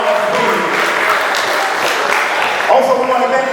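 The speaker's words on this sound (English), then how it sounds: "give that elder a round of applause for allowing us to be here." An audience at a convention applauds an elder, a dense, steady wash of clapping filling the hall, with a voice rising briefly over it near the end.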